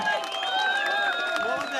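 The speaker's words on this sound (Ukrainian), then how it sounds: "Новий рекорд люди зустрічають оплесками." Crowd cheering and clapping after a strongman pulls three trolleybuses for a record, a dense sustained roar of voices and applause that stays loud throughout.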